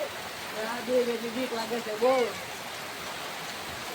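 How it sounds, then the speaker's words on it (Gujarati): Heavy rain pours in a steady, dense hiss close by during a stormy downpour, with a voice talking over it. "રામ ભાઈ વરસાદ આવે એટલે તમારે કામ સંભળાતું નથી, એટલો વરસાદ આવે છે."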